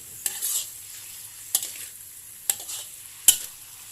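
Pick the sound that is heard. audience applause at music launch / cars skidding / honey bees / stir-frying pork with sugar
stir-frying pork with sugar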